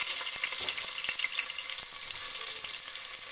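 Onion dropped into hot oil with mustard seeds, curry leaves and garlic in a pressure cooker, a steady bright sizzle with scattered small pops and crackles, close and continuous with no talking.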